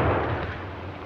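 A German stick grenade explodes in a single sharp, heavy blast with a deep boom that rolls off and decays over about a second, loud and alone.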